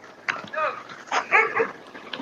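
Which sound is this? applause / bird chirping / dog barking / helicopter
dog barking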